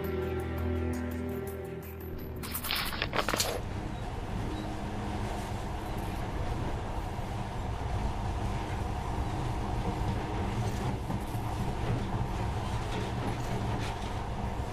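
A monorail ride in the Metro: Last Light game gives a steady low rumbling drone of the moving train, with a brief burst of clatter early on before the continuous running noise settles in.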